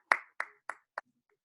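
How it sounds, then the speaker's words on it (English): Four sharp, separate claps at a slowing, even rhythm, close and clear against silence, marking the end of a talk. "Give yourselves a round of applause."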